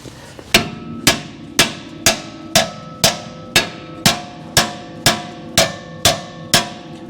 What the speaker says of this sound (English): we may have to tap it with a hammer